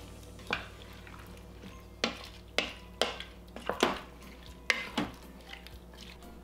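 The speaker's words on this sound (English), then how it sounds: "So you want to give this a good stir" A spoon stirring white bean and kale soup in a pot, with sparse, distinct clinks and scrapes against the pot over a quiet background.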